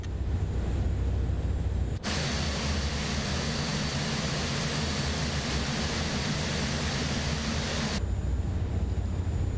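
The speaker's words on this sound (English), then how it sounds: "Let's get our engines up and running." Four turboprop engines of an A400M airlifter in a flight simulator spooling up into a loud, dense, steady roar that sets in abruptly and holds without pause, then drops back to a quieter cabin hum near the end.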